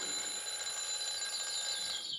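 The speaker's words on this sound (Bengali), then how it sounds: "ভোর 5টায় অ্যালার্ম বাজল যথারীতি।" An alarm clock rings at dawn with a continuous, shrill electronic tone that holds steady and fairly close.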